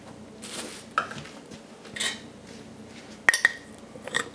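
Spoon stirring flour and tap water together in a bowl for a sourdough starter, with scattered clinks and scrapes against the bowl and a few sharper knocks near the end, close and fairly quiet.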